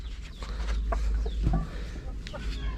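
Chickens clucking in a coop on a backyard farm, scattered close calls and clucks over a low hum, with some talking in the background.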